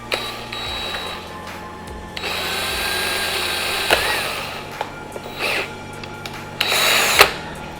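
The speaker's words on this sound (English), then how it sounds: "I'm gonna drill a hole in this bag and run the power through there" A power drill whirs in several short bursts with pauses between, drilling a hole in a bag, nearby and fairly quiet, with small clicks and handling noises in the gaps.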